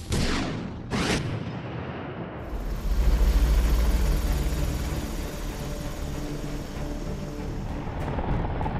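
A US Army Apache attack helicopter drones loudly with a low, steady rotor and engine roar, after a pair of sharp bursts at the start.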